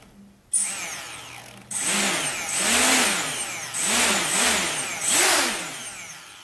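Quadcopter motors with propellers fitted power on and throttle up, whining and whirring loudly in repeated rising surges that swell, dip and rise again, close and with no talk.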